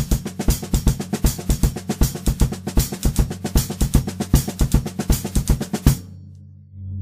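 A drum kit plays a steady paradiddle-diddle groove with the bass drum doubling the right hand, sharp even strokes in a continuous rhythm for about six seconds, then cymbal ring fading out.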